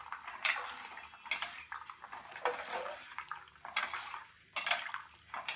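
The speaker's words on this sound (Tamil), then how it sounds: "போட்டுட்டு நல்லா கலரி விட்டுலாம்." Soya chunks (meal maker) are stirred into hot water in a metal pot while cooking soya vadai, giving repeated clinking scrapes and light watery sloshes in an irregular rhythm, close up and fairly quiet.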